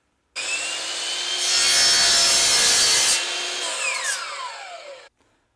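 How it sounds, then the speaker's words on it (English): A hand saw cuts through a solid hardwood floor board in steady back-and-forth strokes, loud and close for about five seconds with no voices. "Okay, we've cut our board."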